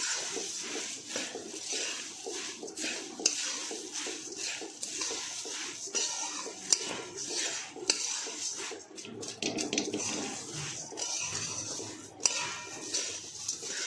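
Puffed rice (mamra) is stirred in a metal pan with a spoon while making garlic sev mamra, a continuous close rustle and scrape punctuated by occasional sharp clinks of utensil on metal, fairly quiet, with no talk.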